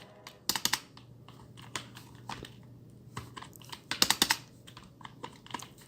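HTML code typed on a computer keyboard: quiet, irregular bursts of crisp key clicks with short pauses between runs, heard alone without talk.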